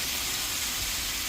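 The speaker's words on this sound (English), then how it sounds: "Chicken sizzling away, spiced up." Spiced chicken sizzles on a grill, a steady faint hiss with no voices.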